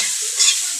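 An egg frying in a pan gives a loud, close, continuous hiss and sizzle for under a second, with no voices.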